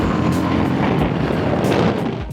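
A Yezdi Scrambler motorcycle, a large bike of about 200 kg, rides along with a steady, loud engine roar and heavy wind rush throughout.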